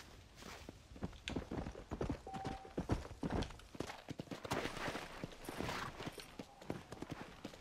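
Horse hooves clip-clop at a steady walking rhythm in the Red Dead Redemption Undead Nightmare video game, close and fairly busy, with a brief whinny-like tone and scattered thumps mixed in.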